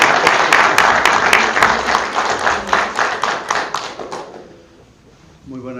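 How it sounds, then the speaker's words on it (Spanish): Applause from an audience at a Colombian Embassy book presentation, dense and steady clapping from a crowd that fades out after about four seconds before a voice begins speaking. "¿Y dónde están los aplausos, señores?"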